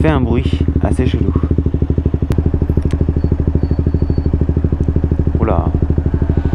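A Paika motorcycle ridden through mountain roads makes a loud, steady, throbbing engine drone with a rough rattling edge that runs throughout, and a brief voice sound briefly breaks over it.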